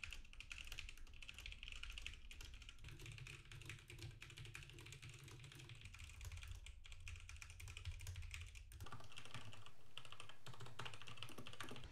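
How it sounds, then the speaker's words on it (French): Steady rapid typing on a computer keyboard, close and continuous, with dense clicking keystrokes recorded through a radio-style microphone under test, and a brief shift in background tone near the end. "un test de frappe au clavier permet de tester la résistance au bruit"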